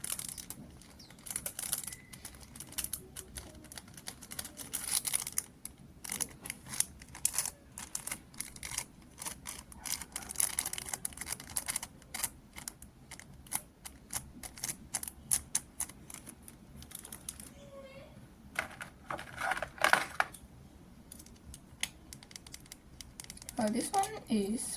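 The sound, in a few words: crinkling sound of an object being handled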